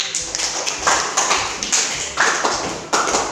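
Students in a classroom applaud in a few rhythmic bursts of fairly close hand claps, rising and falling in short waves.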